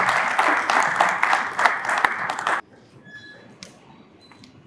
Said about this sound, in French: s'il vous plaît, applaudissez la joie.